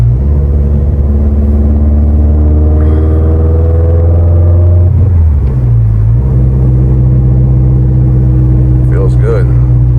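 A Subaru STI with a built motor, Link ECU and Blouch turbo drives through tight traffic, its engine a loud, steady low drone inside the cabin with a gear change midway; people talk over it.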